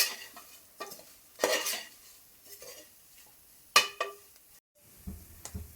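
A spoon stirs spice powders, Kashmiri chili powder and chicken masala, in a pot for Kerala-style chicken curry, giving intermittent scraping and clinking strokes against the metal, some louder than others, with faint sizzling between.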